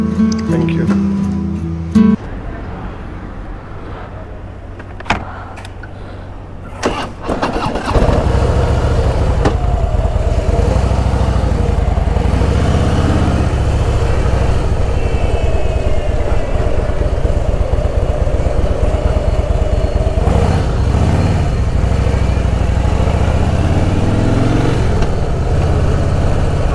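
A Harley-Davidson Fat Boy motorcycle, first a few sparse knocks and clicks, then the engine starts and runs with a steady loud rumble that rises and falls as it rides, with no talk over it.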